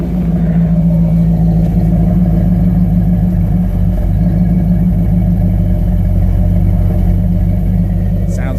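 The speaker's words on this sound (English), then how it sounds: "Listen to this exhaust." A 1973 Ford Maverick with a fuel-injected 302 V8 burbles through its exhaust at a loud, steady idle around 800 rpm, close by, with a slight rise in revs.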